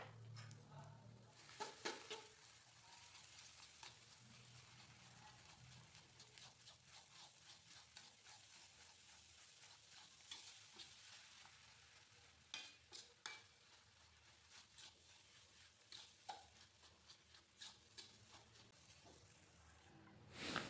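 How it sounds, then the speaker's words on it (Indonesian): Seasoned noodles tossed in sweet soy sauce are stirred in a pan, with a faint steady sizzle beneath repeated scraping and clacking of a utensil against the metal, irregular taps and scrapes continuing for about twenty seconds. "aduk-aduk supaya tercampur merata semua bumbu-bumbunya"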